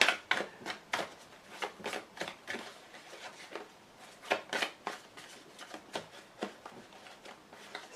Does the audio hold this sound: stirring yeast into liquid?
no